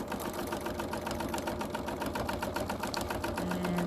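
A sewing machine stitches a quarter-inch quilting seam with the presser foot guiding the edge, a steady, close, rapid whirring rhythm running continuously throughout.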